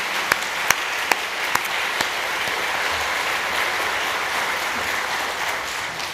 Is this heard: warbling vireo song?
no